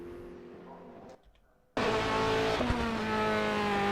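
Ferrari GT3 race car engine in the racing sim rFactor 2, a loud sustained roar that cuts in abruptly after a brief near-silent gap, holding a steady high-revving tone with a slight pitch shift.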